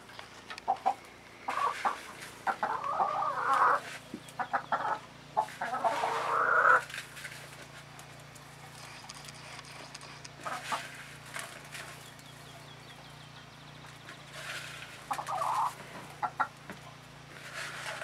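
Chickens cluck in short, scattered bursts, fairly close, with quieter stretches of soft background noise between the calls.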